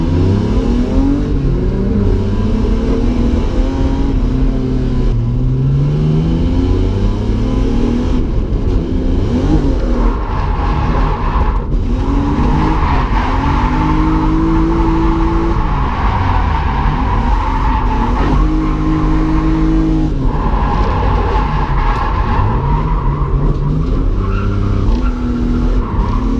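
A drift car at Driftland UK sliding through corners: loud, continuous engine revving with rising and falling pitch sweeps and tire screech, sustained close-up throughout.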